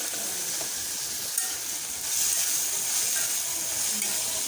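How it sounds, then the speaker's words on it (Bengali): Onion, potato, salt and turmeric frying in hot oil, a continuous dense sizzle heard up close that swells slightly partway through, with no talking. "তেলের মধ্যে দিয়ে দিচ্ছি পেঁয়াজ, দিয়ে দিচ্ছি আলু, দিয়ে দিচ্ছি লবণ, দিয়ে দিচ্ছি হলুদের গুঁড়ি"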